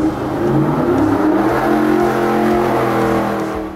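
A performance car engine revs hard in a dyno room, a loud, sustained roar with rough low rumble that holds steady for several seconds before easing off slightly at the end.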